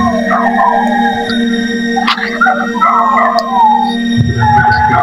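A dog howls in long wavering, sirenlike wails near an abandoned church with a cemetery in Tayabas, Quezon Province, loud and fairly close, with brief breaks between the cries.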